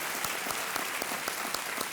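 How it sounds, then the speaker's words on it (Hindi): A studio audience on the quiz show Kaun Banega Crorepati claps steadily in a thick, even wash of applause with individual claps standing out throughout. "तालियों के साथ इनका स्वागत और अभिनंदन।"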